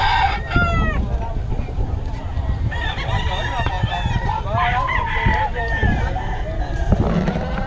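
Farm hens cluck and squawk in a busy flock, with a rooster crowing briefly near the start and voices chattering faintly underneath.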